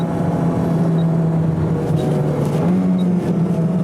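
A car on Bridgestone Potenza high-performance road tyres drives a damp Tsukuba circuit, its engine a steady, loud drone throughout with faint tyre and spray noise, no voices.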